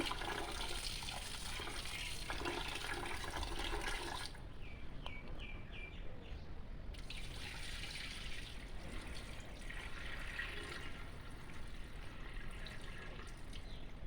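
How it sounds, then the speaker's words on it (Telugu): Rice being washed by hand in tap water in a bowl, a close, steady wet sloshing and swishing with trickles and drips throughout, no talking. "ఇక సెకండ్ టైం కూడా వాష్ చేసుకోవాలండి ఈ విధంగా బాగా శుభ్రంగా వాష్ చేసుకోవాలి"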